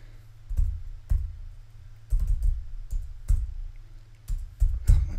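Keys clack on a computer keyboard during on-screen software work, short bursts of close, sharp taps separated by brief pauses, with a low background hum and no speech.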